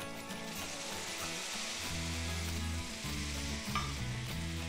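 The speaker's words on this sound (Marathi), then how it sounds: "आता अर्धा कप रवा आहे तर यामध्ये आपण 1 कप छानपैकी गरम असं दूध घालतो यामध्ये." Hot milk poured into roasted semolina in a pan, sizzling and bubbling with a steady, close hiss and a low rumbling tone throughout, no voices.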